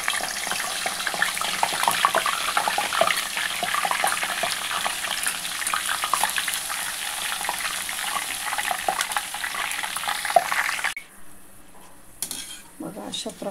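Potato wafers frying in hot oil in a kadhai give a dense, steady sizzle with occasional stirring clinks, then the frying abruptly drops away near the end, leaving quieter scattered clatter.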